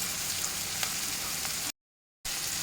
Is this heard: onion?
yes